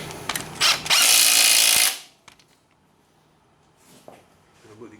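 Power tool tightening caliper bolts on a Yamaha Banshee axle, a loud sustained whir lasting about a second after a couple of short bursts, then quiet shop noise with faint clicks.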